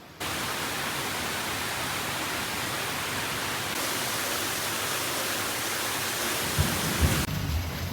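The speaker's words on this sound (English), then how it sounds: "it literally just started dumping rain" Heavy rain pours down steadily and loudly near a hotel in Sri Lanka, a dense unbroken roar with a few soft thuds near the end.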